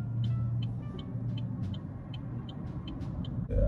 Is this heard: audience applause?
no